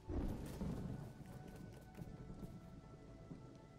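A thunderstorm rumbles in LEGO Fortnite, a low, deep roll of thunder that fades into a steady patter of rain, fairly faint.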